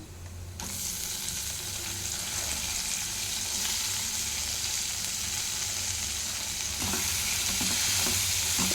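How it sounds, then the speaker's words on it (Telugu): Shredded cabbage with soaked chana dal sizzling and being stirred in a hot pan, a steady loud frying hiss that jumps up as the cabbage goes in and continues with occasional scraping. "ఇప్పుడు ఇందులోనే క్యాబేజీ వేస్తున్నాను"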